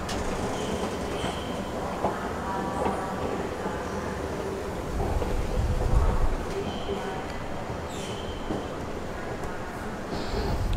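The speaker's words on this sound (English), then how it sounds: "I miss the fucking train." A train rolls along rails with a steady rumble and faint clatter throughout, swelling briefly midway, while people talk nearby.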